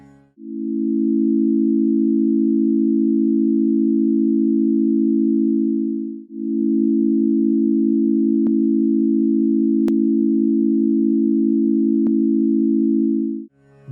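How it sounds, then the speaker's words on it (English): Two synthesized A major chords tuned in just intonation sound as smooth, sustained pure tones, each held for several seconds, with a short break between the first and the slightly longer second chord. "Now let's listen to an A major chord using Oak's definition of Sa, Ga, and Pa"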